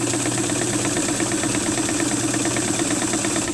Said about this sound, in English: It's a lot quieter than I would have expected for a machine of this age, being fully mechanical and whatnot.